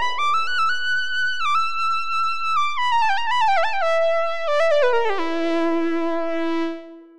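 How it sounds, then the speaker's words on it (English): A lead patch on the VCV Rack open-source modular synthesizer plays a bright melodic line with stepped notes and gliding pitch bends, ending on a long held tone that fades out, steady and alone. "Let's make a lead patch using VCV Rack,"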